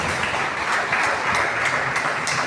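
Church congregation applauding in a steady, dense wash of clapping that holds at an even level throughout.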